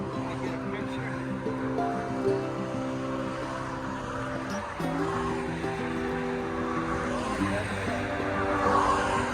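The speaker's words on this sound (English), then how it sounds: "we got a lot of traffic, as you noticed" Road traffic rolls past beside a trail town stop on the Appalachian Trail, a continuous wash of tire and engine noise with a passing vehicle shifting pitch midway, moderately loud and near.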